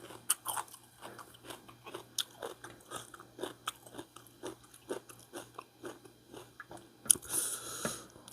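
Close, crisp bites and chewing repeat in an irregular rhythm as someone eats crunchy eggs alongside a spicy pounded bean salad, with a louder rustle near the end.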